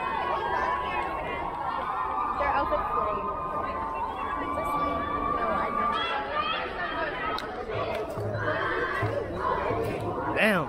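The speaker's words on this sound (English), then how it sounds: "Damn, this is like actual cheering." A crowd cheers and shouts at a glee championship, a dense mass of voices with yells and whoops rising and falling, close people chatting throughout.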